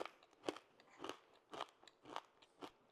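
Crunchy homemade protein granola being bitten and chewed close up, five or six distinct crisp crunches spaced about half a second apart, with no talking.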